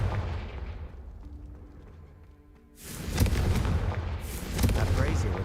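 In the Hogwarts Legacy video game, the Confringo fire spell goes off with a loud booming blast that rolls into a sustained fiery roar with crackling bursts, following a quieter stretch.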